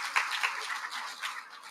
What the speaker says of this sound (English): can we have a big round of applause, please, for the Thai team as well